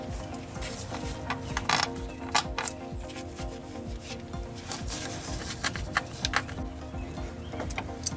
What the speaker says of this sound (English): I'm just running them up to get the valve cover to sit down flat before I start actually torquing them.